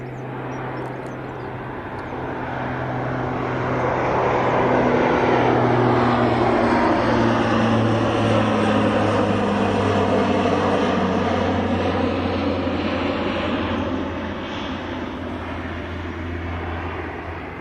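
A fixed-wing aircraft does a fly-through at RAF Mildenhall, its engine roar swelling from a distant drone to a loud, sustained pass and then easing off, with no voices.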